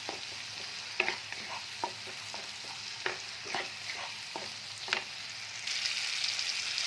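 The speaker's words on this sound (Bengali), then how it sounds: "পুরো মশলাটাকে এবার ততক্ষণ আমাকে নাড়তে হবে যতক্ষণ না মশলার কাঁচা গন্ধটা বেরিয়ে যায়" A ginger and garlic spice paste sizzles in a pan while a spatula stirs it in repeated scraping strokes, a close, steady frying hiss that grows a little louder near the end.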